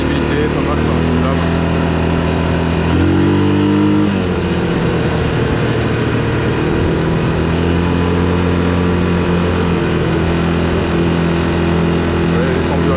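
A Yamaha 350 motorcycle revs and accelerates through a forest with a loud, continuous engine drone whose pitch rises and shifts, close to the listener, while people talk over it.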